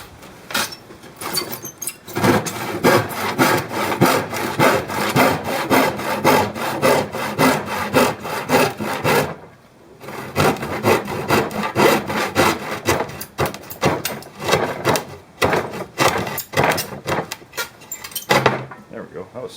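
Hand saw cutting through an office chair base, fast rhythmic back-and-forth rasping strokes, close and loud, with a brief pause midway before the sawing resumes and finishes.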